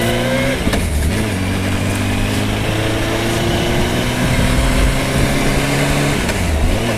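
A car moving slowly through traffic, its engine holding a steady low drone with slight pitch changes as it eases along, loud and close, with no talking.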